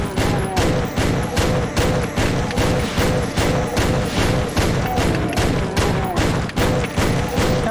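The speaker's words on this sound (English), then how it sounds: "I think I'll have to stop talking and start shooting" Rapid, continuous gunfire in the Doom level Toxic Refinery Redux, a dense rhythmic string of loud close shots repeating about twice per second with no pause, no talking over it.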